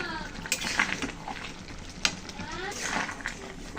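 Ginger paste is stirred into a prawn curry with Malabar spinach and potato in a pan, with clinks, spoon scrapes and a light sizzle under a person talking.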